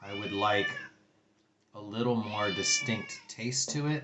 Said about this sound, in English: I'm sorry if you hear my cat meowing.